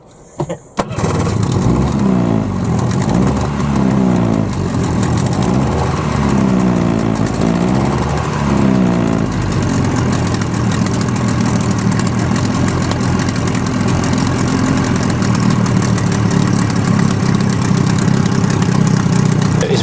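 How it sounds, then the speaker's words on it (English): A boat's outboard engine coughs and splutters into life after a brief pause, then settles into a loud, steady running drone with a pulsing low rumble that continues to the end. "It's a good idea to get the engine going and leave it running for a while"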